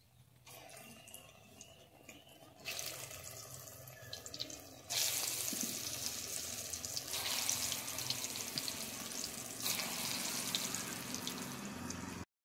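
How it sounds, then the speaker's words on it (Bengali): Gourd (lau) koftas deep-fry in hot oil, giving a steady, bright sizzling hiss that swells louder partway through and stays even until it cuts off at the end, with no talking. "বাকি কোপ্তাগুলো এইভাবেই ভেজে নেব।"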